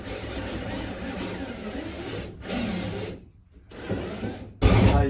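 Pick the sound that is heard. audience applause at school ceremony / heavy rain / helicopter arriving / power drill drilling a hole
power drill drilling a hole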